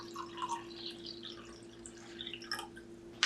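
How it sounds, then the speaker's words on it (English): Water is added to a lemonade mix, with trickling, dripping liquid sounds in light bursts over a steady low hum and some faint clinks near the end. "I'm gonna add some water."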